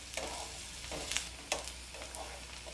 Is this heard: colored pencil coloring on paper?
no